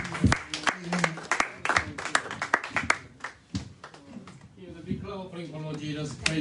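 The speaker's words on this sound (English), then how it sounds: "Hear the big clap" A church congregation claps in scattered, uneven bursts, with sharp individual claps up close, as people talk and a voice rises near the end.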